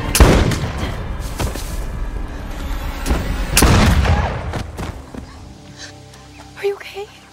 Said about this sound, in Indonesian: ia pun segera mengambilnya, menarik pelatuknya, dan Ryan pun tewas seketika.